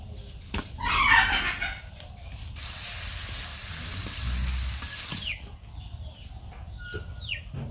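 Pui shak greens frying in a kadai pan with green chili and salt, producing a steady hiss and sizzle throughout, louder near the start and then easing, with brief faint bird calls in the background.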